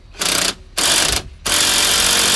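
A ratchet tightens a bolt while a No Limit Fab Stage 2 air intake is fitted to a 2017 6.7 Powerstroke, making three loud buzzing runs of clicking, the last one the longest, close up and with no talk.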